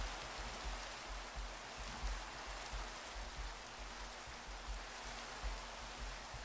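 Steady, hissing Minecraft rainfall pours continuously, a soft, even wash of noise with faint low thumps underneath and no voices.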